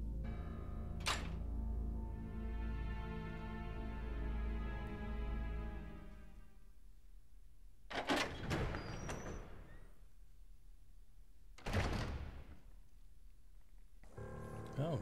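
A door opens in the video game Resident Evil 0 with a long low grinding rumble, followed by sharp heavy thunks and clanks that come in loud bursts and then fade.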